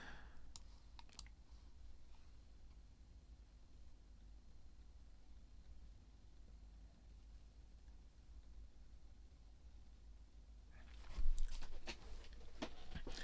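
A computer mouse clicks a few times while someone works with an AI coding tool. The clicks are faint and sparse in a quiet room, with a short cluster near the start and a slightly louder burst near the end.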